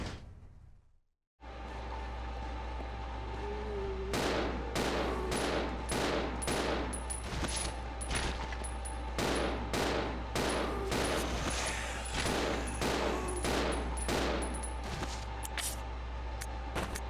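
Rapid handgun shots ring out in the Resident Evil 0 HD Remaster treatment plant, a loud irregular volley of sharp cracks over a steady low machine hum, with no talking.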